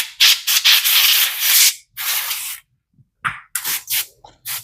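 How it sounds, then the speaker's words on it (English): Compressed air blasts dust out of an Asus laptop on a kitchen table in repeated close, loud hissing bursts of varying length, with short pauses between them. "You just get compressed air, blow it here."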